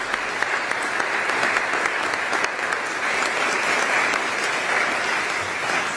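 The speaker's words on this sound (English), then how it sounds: "I want to give them all a round of applause" A legislative chamber audience applauds lawmakers in steady, dense clapping that stays loud and even throughout, with no voices breaking through.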